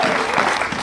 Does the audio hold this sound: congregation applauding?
yes